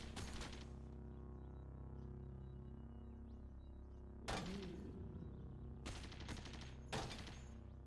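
Turrets fire in the Caves of Qud video game: a faint sustained game tone is broken by several bursts of rapid, crackling shots, quiet overall with no talking.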